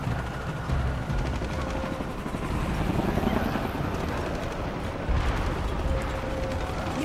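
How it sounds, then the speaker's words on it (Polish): Helicopters in the video game Shadow of the Tomb Raider, a continuous rumbling rotor drone that swells and fades, mixed with low game sound effects and some faint speech. "Więcej helikopterów."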